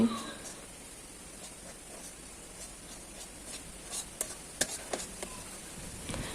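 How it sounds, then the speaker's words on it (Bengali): Lentils stirred while dry-roasting in a pan, soft, faint scraping and rubbing with scattered light clicks of the spoon, quiet and sparse, growing slightly busier toward the end. "ডালটা এভাবে নেড়ে নেড়ে শুকিয়ে নিচ্ছি"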